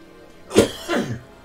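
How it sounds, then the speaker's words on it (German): A single cough, close and moderately loud, followed by a shorter throat-clearing sound, from a person pausing during a Hogwarts Legacy gameplay session; no other sounds. "Ich muss noch mal kurz einen Hustecken machen."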